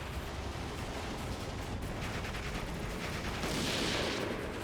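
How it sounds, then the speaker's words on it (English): Battlefield gunfire in Steel Division 2, with a pair of snipers firing on infantry amid a dense, unbroken roar of shooting and rumble that stays loud and steady throughout. "they're being hit by this double sniper"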